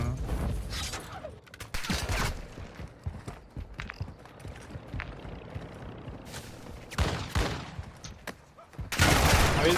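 Bursts of gunfire in Call of Duty DMZ crackle in rapid clusters, loud and close, with quieter stretches of mixed game noise between volleys.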